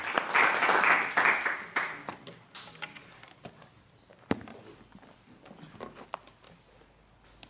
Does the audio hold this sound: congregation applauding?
yes